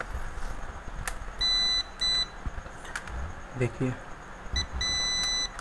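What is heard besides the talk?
multimeter beeping in buzzer continuity mode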